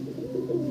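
Andhra kalsira pigeon cooing softly, a brief low burbling coo, quiet and close with no other sounds.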